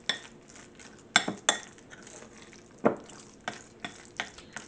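A utensil stirs flour into a salmon patty mixture in a bowl, giving scattered metallic clinks and soft scraping knocks, close and irregular, with no talking.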